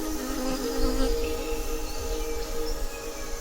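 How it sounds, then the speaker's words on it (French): Dense, continuous insect buzzing and chirring at the edge of a small jungle in Bali fills the clip, a steady layered drone with no voices. "Les insectes,"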